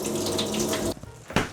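Tap water running from a kitchen faucet in Japan, a close, loud, splashing stream that cuts off abruptly partway, followed by a brief drip and a short splash.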